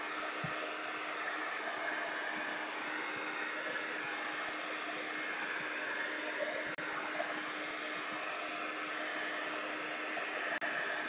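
A hair dryer blows steadily on freshly painted canvas, a continuous, even whooshing hum that holds at a constant loudness for the whole stretch, close to the listener and with no talking.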